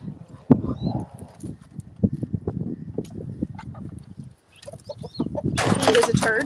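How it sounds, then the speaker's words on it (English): Blue and green Americana chickens cluck close by in short, irregular bursts, with a louder flurry of squawking and rustling toward the end. "These are my blue and green Americana chickens."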